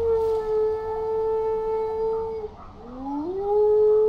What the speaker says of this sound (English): he keeps on howling